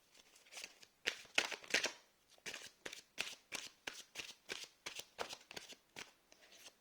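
A deck of tarot cards being shuffled by hand: a steady series of crisp riffling bursts, close and fairly quiet, repeating in an even rhythm with no talking.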